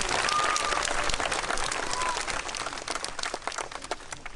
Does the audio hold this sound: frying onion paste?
no